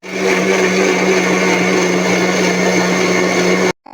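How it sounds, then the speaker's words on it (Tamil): Blender grinding palmyra fruit into a fine paste for ice cream, a loud continuous motor whine with a steady hum, running alone and cutting off abruptly at the very end. "இப்போ நான் நல்லா அதை நைஸாக அரைக்க போகிறேன்"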